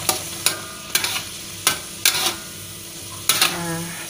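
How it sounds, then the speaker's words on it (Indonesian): Sambal with petai stink beans stirred in a pan, a spatula scraping and knocking against the metal every half second or so over a soft steady sizzle, close and fairly loud. "Nih guys, kita masukin petenya biar dia juga sama-sama mateng. Lalu kita aduk-aduk."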